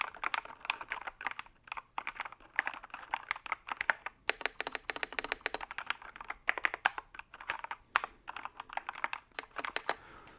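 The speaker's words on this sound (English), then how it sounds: "This is how the keys sound." Keys on a Tecware Phantom S mechanical keyboard clack in quick, uneven bursts of typing with short pauses, close and fairly crisp, with no voices.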